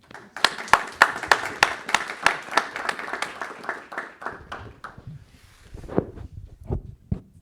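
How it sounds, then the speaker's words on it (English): An audience applauds as two speakers are welcomed to a public art talk. The clapping is dense and sharp for about four seconds, then thins to a few scattered claps and rustling. "without further ado, please applause for Adrienne Elise Tarver and Dr. Harvey You"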